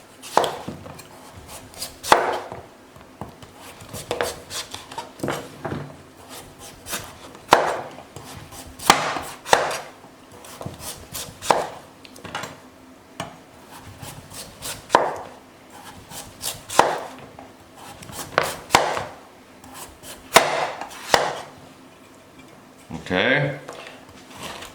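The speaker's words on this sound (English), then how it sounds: "with a knife we peel this one nicely off" Butternut pumpkin being peeled with a knife, a series of crisp scraping and cutting strokes on a board at an irregular pace, close and moderately loud, with a person talking throughout.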